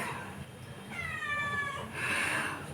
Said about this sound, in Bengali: ছানা চলে এসেছে ম্যাও ম্যাও শুনতে পাচ্ছ বোধহয় তোমরা একটু একটু